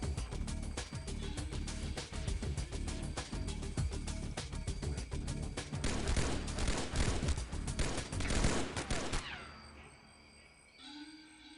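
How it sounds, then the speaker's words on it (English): Rapid gunfire from a UAC carbine in the XPiratez strategy game, a dense run of loud shots for about nine seconds that then cuts off into quieter game sounds. "That is a UAC carbine."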